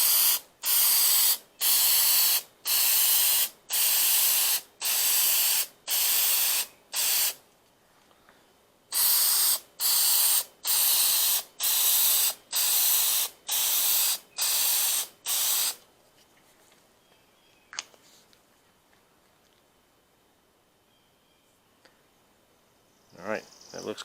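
Second coat sprayed onto a fog light on a 2008 GMC 2500HD, heard as about a dozen short, loud aerosol hiss bursts in steady rhythm up close, followed by quiet with a few faint handling knocks.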